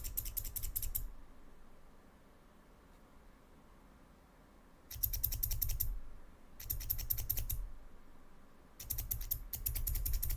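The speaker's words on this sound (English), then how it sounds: "is this just some world's cheapest set of scissors?" Cheap pair of scissors being handled, giving four separate bursts of crisp, rattly mechanical clicking and scraping, each lasting about a second, with quiet gaps between.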